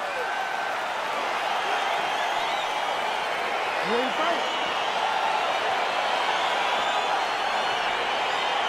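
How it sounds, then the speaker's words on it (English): Arena crowd cheering in the UFC 4 fighting video game as a bout between Darren Till and Jack Hermansson gets underway, a steady broad roar filling the background under an announcer's voice. "crowd getting excited as this fight gets underway"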